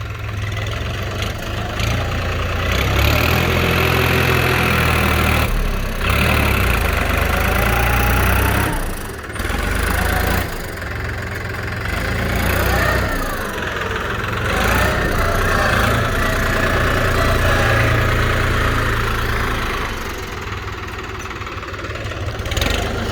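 A New Holland TT3.50 tractor with a three-cylinder engine runs steadily and loudly close by, a continuous low rumble that holds throughout with a few brief dips and surges.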